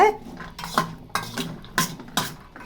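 A spoon stirring a mango, cucumber and carrot salad in a bowl, giving repeated clinking and scraping strokes about every half second, close and fairly loud with no talk.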